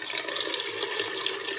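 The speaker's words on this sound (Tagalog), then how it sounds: "lagyan ng sabaw para mapalambot na po siya" Broth poured into a pot of pork simmering at home, a steady continuous splashing, running-liquid wash that stays even and close throughout, with no talk.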